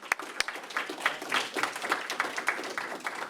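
An audience at a historical society enrichment program claps together for about three seconds of steady, moderately distant applause filling the room, with no talking over it.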